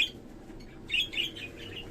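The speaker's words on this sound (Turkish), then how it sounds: "Böyle evcil bir sultan papağanı var." Pet cockatiels kept in a home balcony aviary give a few faint, high chirps and tweets over a soft background hiss, with no talking.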